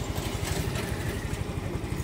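Honda Mio i 125 scooter engine idling with a steady, rapid close-up putter and faint mechanical clatter, heard alone.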